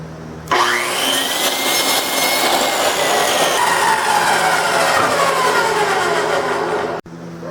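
A power saw spins up and cuts a 2x4 wood piece in half, a loud close whine that rises at the start, holds through the cut for over six seconds, then stops abruptly.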